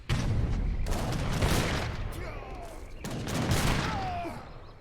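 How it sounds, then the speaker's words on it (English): A volley of cannon fire crackles and booms in a real-time strategy battle, several bursts of rolling gunfire across a few seconds with faint chirping effects in between. "Another volley gonna go off."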